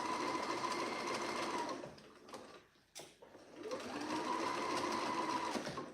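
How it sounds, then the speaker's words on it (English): A home sewing machine runs stitches through stretchy knit fabric for a roll-neck T-shirt, a loud steady whirring hum that pauses briefly in the middle before starting again. "I always encourage just using the basic sewing machine where possible"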